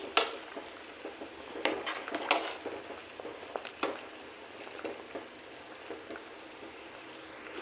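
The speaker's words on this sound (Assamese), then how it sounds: "এতিয়া আকৌ এবাৰ মই লৰাই দিম এইখিনি।" Elephant apple pickle boils in a pot while a spoon stirs it, giving a steady soft bubbling with several scraping clinks against the metal, close and without speech.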